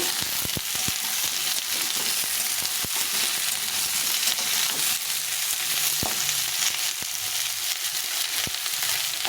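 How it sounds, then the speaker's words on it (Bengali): Pointed gourd (potol) frying in a pan with oil, a steady dense sizzle that runs the whole time, broken by occasional sharp spatters and light clicks of stirring close by. "পটলটা একটু ভেজে ভেজে নেব"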